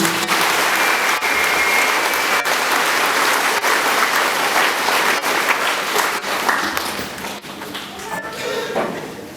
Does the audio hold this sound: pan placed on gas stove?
no